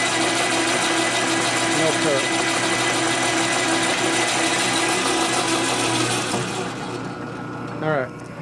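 A drill bit grinds and chatters against hard metal on a 1946 Harley knucklehead 84ci stroker engine, a steady loud mechanical whir that struggles without cutting, then cuts off near the end, with a voice talking over it.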